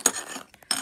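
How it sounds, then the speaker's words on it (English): Metal jar lids being pulled out of a kitchen drawer, a short burst of clinks and rattles, a lull, then another clattering handful, close by with no talking. "I can just grab out a few other jar lids."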